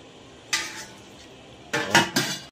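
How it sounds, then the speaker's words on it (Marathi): A lid set onto a cooking pot in a home kitchen, with a single clatter followed a moment later by a couple of louder metallic clinks of dishes, close and sharp against a quiet background. "चला ढाकण देऊ याच्यावर आपण आता मस्तपैकी आणि ठेवू शिजत"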